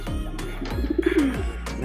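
Pigeons coo in a short series of soft, rolling calls in a loft during a racing pigeon training session, several coos overlapping close by with a low rumble underneath.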